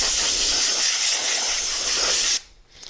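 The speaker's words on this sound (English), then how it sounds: "we're going to dust that with the air line from our air compressor" A compressed-air line from an air compressor blows dust off foam in one loud, steady hiss lasting about two seconds before cutting off abruptly, followed by a faint brief puff.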